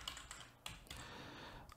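Computer keyboard typing, a short stretch of quick key clicks close up and faint beneath a steady room hiss.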